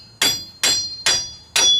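Four sharp metallic hammer strikes on a front axle shaft of a 4x4 Chevrolet S10 Blazer ring out at a steady pace, each with a bright clang and short ringing tail, close by.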